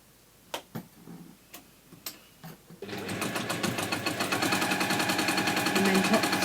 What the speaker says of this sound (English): And then top stitch down the other side.